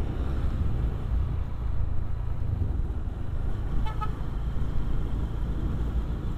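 Large Gudang Garam cigarette factory trucks rumble past on a road in a steady, loud roar, and a short horn toot sounds partway through.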